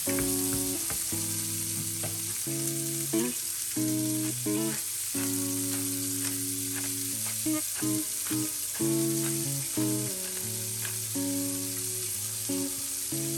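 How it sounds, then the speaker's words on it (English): Shrimp and tomato spaghetti ingredients are stirred together in a pan, with an even sizzle of frying running throughout and soft scrapes under a loud, sustained tonal music bed. "I stir all ingredients together for about a minute"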